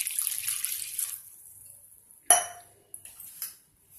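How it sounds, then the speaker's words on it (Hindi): A glass of water poured into a pan of jaggery on a gas stove for peanut chikki: a brief splash and clatter of metal, then a few soft knocks, after a faint hiss. "और इसमें 1 गिलास पानी डाल देंगे।"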